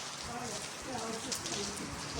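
A dense, steady hiss of falling rain, fairly faint, with a murmur of voices mixed underneath.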